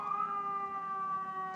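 A steady wailing ambulance siren outside holds a loud sustained tone throughout, with no talk over it.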